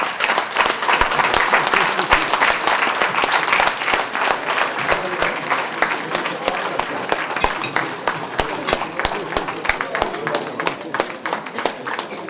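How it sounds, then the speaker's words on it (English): Audience at a lecture during a national convention breaks into sustained applause, dense clapping filling the hall at a steady level with voices mixed in. "May I ask you, ladies and gentlemen, to please give him another round of applause."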